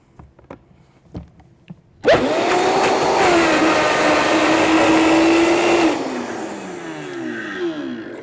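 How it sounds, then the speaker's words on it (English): A blender whirs loudly and steadily for about four seconds, mixing raw pumpkin pie filling with spices and salt, then winds down after brief clatter beforehand. "now let's go ahead and blend that up a little bit"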